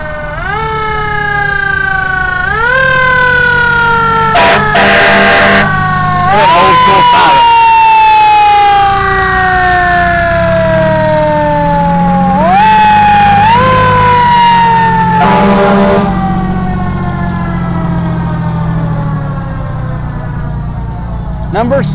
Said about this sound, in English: the East Clay Volunteer Fire Department and their engines